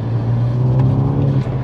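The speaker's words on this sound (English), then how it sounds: "You got that intake up front and then actually a really nice tone of the exhaust" A tuned 320 bhp VW Mk5 Golf GTI Edition 30 runs at a steady, loud, close engine drone, with low exhaust tone and intake sound and no talking.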